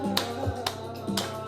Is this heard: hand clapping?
yes